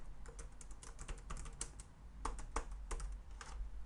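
Close keyboard typing, a quick irregular run of key clicks with brief pauses, entering an address into a web form on a computer, fairly quiet and with no voice.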